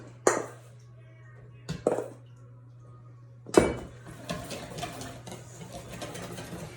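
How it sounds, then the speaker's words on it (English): Dairy-free blueberry cake batter is whisked in a bowl: a few scattered clinks at first, then rapid continuous scraping and tapping of the whisk against the bowl, close by over a low hum. "I just like to take it in gradually so you avoid cakey lumps. So I'm just whisking."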